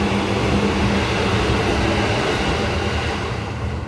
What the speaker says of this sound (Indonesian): Kereta, lewat lagi kereta.